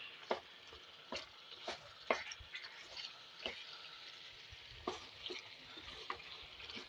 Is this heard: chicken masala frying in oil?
yes